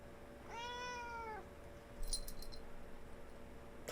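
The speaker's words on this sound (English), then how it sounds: "Oop, that's a cat." A house cat gives a single clear, drawn-out meow close by in a quiet room, followed by a brief jingling sound like keys or a tag.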